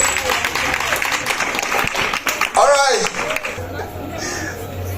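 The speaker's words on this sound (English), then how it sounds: "we should clap for them" An audience applauds pageant contestants at a live crowning event, with clapping and crowd noise under a voice speaking, fading to quieter chatter near the end.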